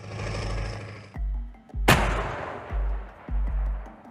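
A US howitzer fires a massive artillery round, one sudden, loud, booming blast that rolls away over the heavy rumbling of a nearby engine that pulses on and off.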